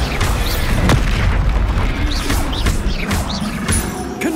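Booming spell explosions from the Hogwarts Legacy video game, a Bombarda blast among rapid combat spells, with loud repeated bursts and crashes over a dense, continuous battle din.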